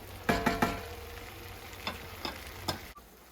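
Kothu parotta ingredients being lightly mixed in a frying pan: a few sharp scrapes and clinks of a spatula against the pan over a low sizzle, with three quick strokes early and a few more spaced out after.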